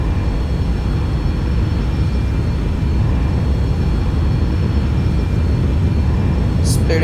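Boeing 737-800 jet engines in X-Plane 11 spool up for takeoff on a runway, a steady loud broadband roar holding evenly throughout with a brief high-pitched blip near the end.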